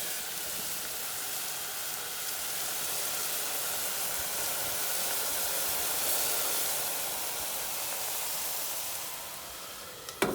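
Onions, celery and leeks sweating in a pan give a steady, broad sizzling hiss that holds evenly for about ten seconds, close and moderately loud, with a brief clatter right at the end.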